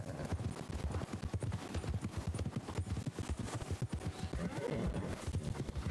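Rhythmic horse hooves clip-clop steadily and close in Red Dead Redemption 2, a riding horse trotting at an even pace with an occasional whinny, heard alone with no talking.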